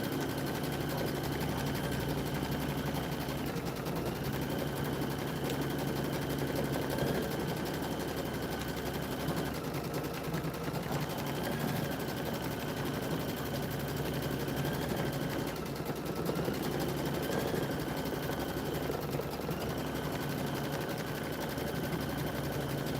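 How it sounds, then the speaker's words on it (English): A Brother embroidery machine stitching a built-in quilting design runs with a steady, continuous mechanical whir and rapid needle chatter, constant in level throughout with no speech. "I love quilting on these machines."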